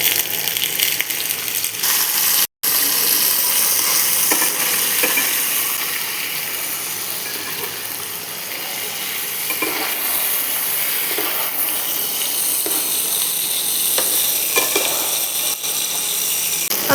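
Potatoes seasoned with salt and turmeric fry in oil, giving a continuous hissing sizzle with occasional stirring clinks and scrapes, close and moderately loud, with one brief dropout early on.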